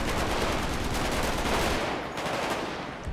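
Rapid automatic gunfire from a machine gun in a bank heist video game, a continuous loud burst that thins slightly toward the end, no voices.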